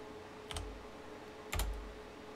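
Computer keyboard typing, just two brief soft key clicks about a second apart, quiet and close with no voice.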